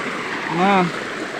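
A river's current runs strongly and steadily as broadband rushing water, with a brief voiced sound rising over it in the middle.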